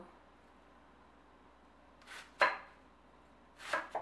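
Kitchen knife slicing through beef on a cutting board for a spicy soup, a few separate crisp cuts after a quiet pause.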